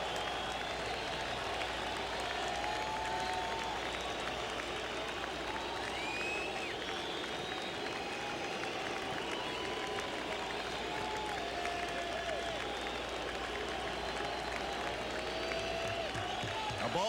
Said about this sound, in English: the crowd will be roaring for the strikeout here